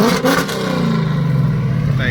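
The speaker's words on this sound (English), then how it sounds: "this Mustang sound crazy." At a car meet, a Ford Mustang running without mufflers revs loudly and raggedly nearby, a deep, rough engine roar rising and falling while people talk over it.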